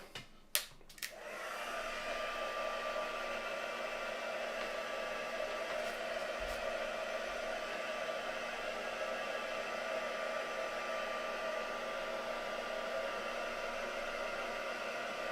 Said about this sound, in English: So I'm just going to dry this off.